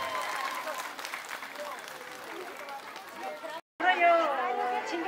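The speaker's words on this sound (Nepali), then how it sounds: "सबैले हाम्रा कलाकारहरुको टिमलाई जोरदार ताली बजाएर एक पटक स्वागत गरिदिनु होला" Audience applause greets a team of performers at a Teej song and dance competition held on temple grounds, a steady broadband clapping with voices and chatter mixed in, briefly cutting out before resuming louder.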